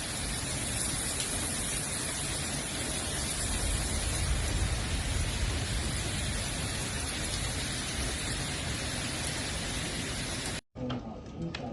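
Heavy rain pours steadily during a thunderstorm in Omaha, Nebraska, a dense, loud, unbroken hiss that cuts off abruptly near the end.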